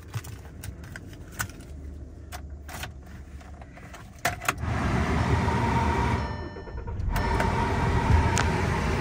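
A 2010 Volkswagen Jetta starts up: faint clicks and key jangles inside the car, then the engine catches around midway and settles into a steady idle hum with a brief dip.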